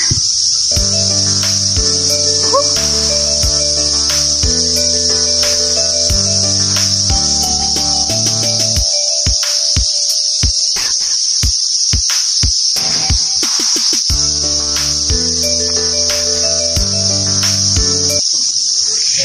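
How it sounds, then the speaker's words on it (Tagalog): Crickets in forest trees along a mountain hiking trail keep up a loud, steady, high shrill chorus for the whole stretch, with background music running beneath it. "Sadya naman pong napakaingay ang mga kuliglig na nasa mga puno"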